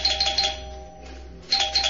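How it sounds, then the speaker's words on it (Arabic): A doorbell rings indoors, two clear bright electronic chimes about a second and a half apart, each followed by a short fade, with nothing else around them. "رن جرس الباب."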